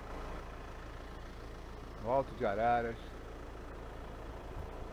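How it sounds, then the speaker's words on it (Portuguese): Low, steady diesel engine hum droning in the background at Alto de Araras, constant throughout while someone speaks briefly over it. "esse ruído aí ao fundo, porque eu confesso a vocês que eu adoro um barulho de motor diesel."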